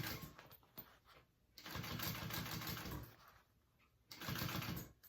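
Sewing machine top stitching a handbag, a close whirring motor hum that runs in bursts of a second or two with brief quieter pauses between.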